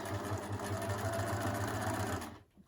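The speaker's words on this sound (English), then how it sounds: "Just going to stitch as far as I can." Home sewing machine stitching a seam in slightly stretchy fabric, a fast, even mechanical chatter running steadily up close before stopping abruptly near the end.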